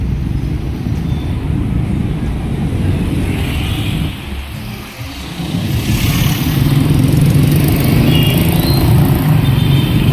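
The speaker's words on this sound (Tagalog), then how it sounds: "Ayan, traffic pa." Road traffic heard from inside a moving car, a steady engine rumble and passing vehicles with a brief dip midway before the noise swells again, no one talking.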